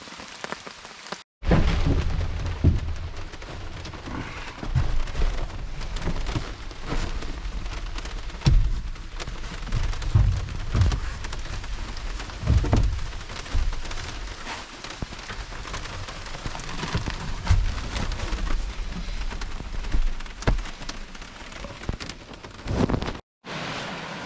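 Steady rain drums on a truck camping site beside a creek, a dense continuous patter with occasional heavier gusts and low rumbles, nearby and loud, no voices.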